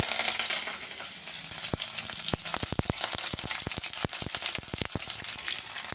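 Tempering spices sizzle and crackle in hot oil, a steady frying hiss punctuated by many sharp pops and spatters.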